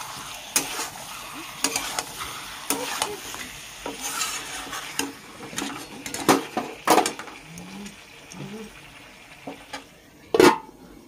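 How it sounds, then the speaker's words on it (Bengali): A spoon stirs pulao with meat and potatoes in a pot, scraping and clinking in irregular strokes over a soft sizzle, with a louder metallic knock near the end. "একটু নাড়াচাড়া করে ঢাকা দিতে হবে"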